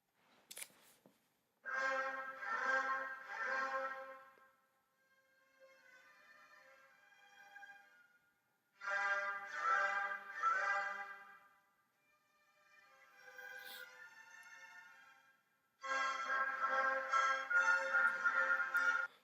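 An orchestra plays the first theme of Mozart's Symphony No. 41. Bold, loud chordal phrases alternate with softer, quieter passages and brief pauses.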